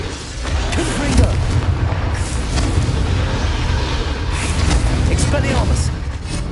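Confringo blasting spell in Hogwarts Legacy, gameplay: a loud, sustained booming rumble of explosions and roaring effects that fills the whole stretch, with voices speaking over it.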